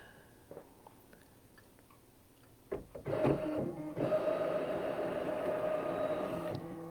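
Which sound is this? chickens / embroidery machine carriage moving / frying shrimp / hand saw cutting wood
embroidery machine carriage moving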